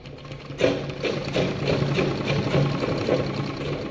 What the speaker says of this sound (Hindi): देखिए अब हमने पूरी सिलाई लगा दी है